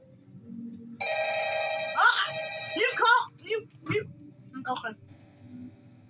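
A phone rings in the video game Ultimate Custom Night, a bright electronic tone holding steady for about a second before a player talks and makes vocal noises over the game sounds.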